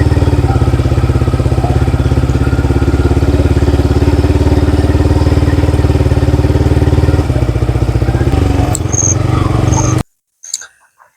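A modified Yamaha R15 V4 motorcycle engine runs at night with a steady, loud, rapid-firing drone for about ten seconds, then cuts off abruptly, leaving a few faint clicks and a short voice.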